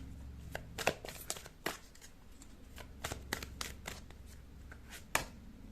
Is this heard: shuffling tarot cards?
yes